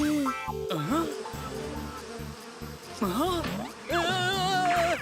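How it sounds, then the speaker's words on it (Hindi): Cartoon bees buzz in a steady, wavering drone that swells and fades, mixed with music and cartoon voices talking over it. "शेरा, वो मधुमक्खियाँ हैं, हवाई जहाज नहीं कि सबको लेकर चलें।"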